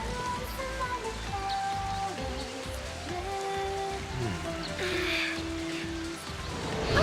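Rain in the video game Final Fantasy XIII patters steadily as a soft, even hiss, with game music tones and effects sounding over it.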